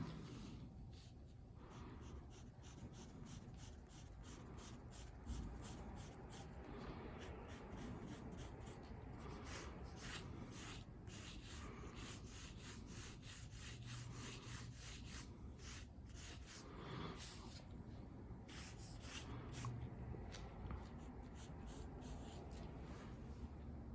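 Pencil hatching and crosshatching on paper, quick rhythmic scratchy strokes repeated in fast bursts, close and fairly quiet, with brief pauses between runs of marks.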